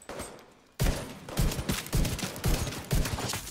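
Gunfire during a firefight inside a library in The Division 2: a steady series of loud, punchy shots about half a second apart, close and heavy over a rumbling background.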